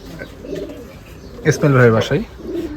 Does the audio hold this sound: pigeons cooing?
yes